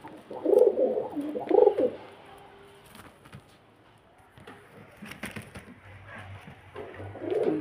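Soft coos from a pair of large black Powder pigeons in two short bursts near the start, another low cooing phrase at the end, with quieter rustling between.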